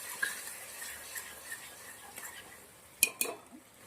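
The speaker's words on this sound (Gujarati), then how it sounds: "હવે આપણે આને મિક્સ કરી દેવાનું છે" Utensil stirring pasta with soy sauce and salt in a pan, soft scraping through the clip with a couple of sharp metallic clinks near the end, fairly quiet with no talk.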